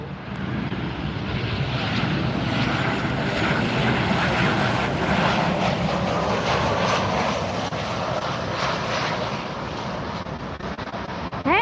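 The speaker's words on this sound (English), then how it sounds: "Somebody threw a United plane into the mix." A United Airlines plane roars past at Miami International Airport, a loud continuous engine rumble holding steady for several seconds on a cloudy day, with no voices over it.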